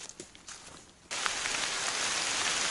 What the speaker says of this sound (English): We are involved in a South Carolina rain shower.